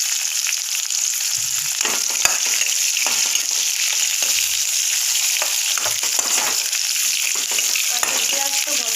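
Chopped onions frying in a pan for a home-cooked Assamese dish, a steady close sizzle with small crackles and occasional stirring scrapes throughout.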